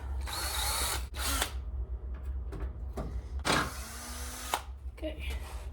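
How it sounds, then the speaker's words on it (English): Electric drill fitted with a larger bit, whirring in several short bursts of varying length, close by, with pauses and small handling noises between runs. "Now for the larger drill bit."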